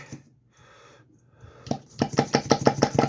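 After a quiet start, a high-compression small glow-plug engine is cranked with a pull starter, producing a rapid series of rhythmic compression thumps and rasps.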